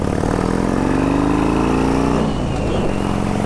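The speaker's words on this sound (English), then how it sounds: "that is an Indian AMI 50cc moped that we just fixed up for a guy" An Indian AMI 50cc moped engine runs steadily nearby, a buzzy putter that shifts pitch slightly as it idles and revs.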